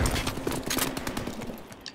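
Rapid automatic gunfire from an odd futuristic weapon in Call of Duty: Advanced Warfare rattles in a loud, continuous burst of closely spaced shots with no talk.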